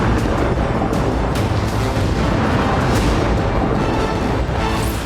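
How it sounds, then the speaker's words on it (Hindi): Blast from a landmine striking an Israeli army unit in northern Gaza, heard in news footage as a loud, continuous roar of explosive noise and rumbling booms filling the whole stretch, with no voices. "हमास का दावा है कि उसने उत्तरी गाजा में इजरायली सेना की एक टुकड़ी को लैंडमाइन से उड़ा दिया।"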